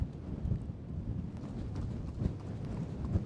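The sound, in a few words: horse hooves clip-clopping while walking and trotting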